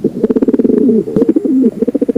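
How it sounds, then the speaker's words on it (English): A pigeon coos in soft, throaty pulses, with rolling rhythmic phrases repeated close by and no other sounds around them. "Pigeon,"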